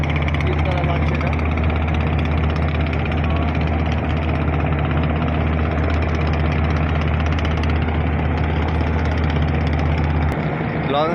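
Steady, loud low engine drone from a three-storey passenger launch at a riverside ghat in Bangladesh on a rainy day, humming continuously with a throbbing low rumble that shifts slightly near the end.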